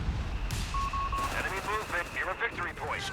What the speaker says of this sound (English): More barraging the mortar. See how high it's shooting?